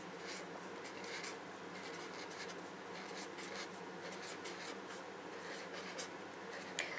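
Chalk or marker scratches steadily across a classroom board throughout a maths lesson on exam problems, a continuous close scraping with short strokes and brief pauses, no talking.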